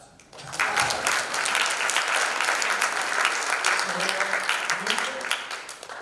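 Sustained, loud applause from a conference audience thanking a business forum panel, steady clapping that fills the whole stretch with faint voices murmuring underneath.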